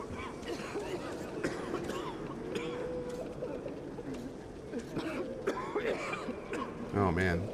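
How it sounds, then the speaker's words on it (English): Several characters cough and clear their throats in the Metro Exodus video game, muffled hacking layered over a murmuring background crowd. Someone speaks briefly near the end. "And everyone's coughing."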